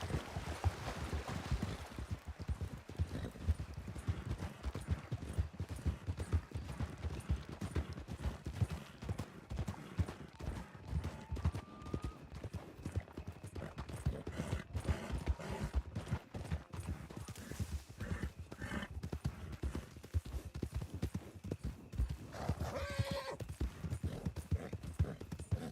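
A horse's hooves clip-clop in a steady, rapid rhythm throughout a video game, loud and close, with a faint whinny near the end.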